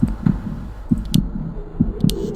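A thumping heartbeat in the horror game House 2 picks up pace, paired low double thuds repeating close and loud with faint clicks between them.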